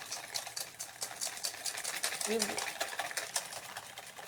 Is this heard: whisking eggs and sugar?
yes